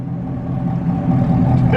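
A 2020 Chevy Silverado with the 6.2 V8 and Kooks 1 7/8 headers on its stock exhaust growls close by, a deep loud rumble that swells slightly as the engine revs near the end.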